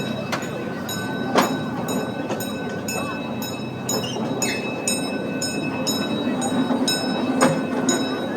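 An amusement park train at Castle Park rumbles along steadily with rhythmic clicking and a few sharp knocks, faint voices underneath.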